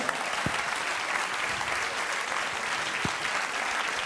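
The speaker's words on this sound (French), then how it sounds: "applaudissements du public" Steady audience applause filling a Paris casino theatre during a comedy show, a dense even wash of clapping that continues throughout with no voices over it.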